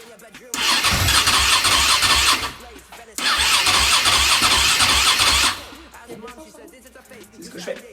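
A motorcycle engine, a rebuilt 530, cranks and catches in two loud sustained bursts separated by a short pause, then drops away to a quieter idle-like rumble, heard close up.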